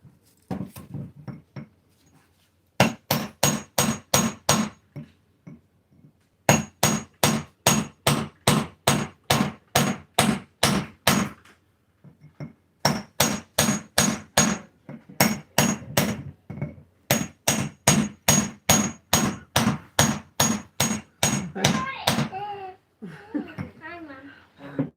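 A hammer cracks small geode shakers in long runs of rapid, sharp, ringing strikes, broken by short pauses, with a voice speaking briefly near the end.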